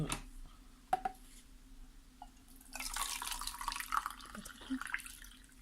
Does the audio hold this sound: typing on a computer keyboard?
no